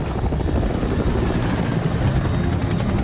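A Chinook helicopter drones loudly and continuously, its heavy rotor beat and engine roar filling the air at close range as it climbs with stuck controls.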